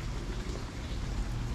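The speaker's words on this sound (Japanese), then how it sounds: "雨はしとしと降ってて" Light rain falls during Typhoon 14 in Yilan, Taiwan, as a steady, even hiss with no distinct drops or gusts. No one speaks.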